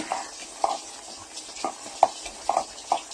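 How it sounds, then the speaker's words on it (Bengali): Spoon stirring banana flower curry with prawns in a pan, a series of about eight soft scraping strokes at an irregular rhythm with faint sizzling between them, close and fairly quiet. "ওগুলোকে আমি আরেকবার চেষ্টা করছি ভালো করে ঘেঁটে দেওয়ার"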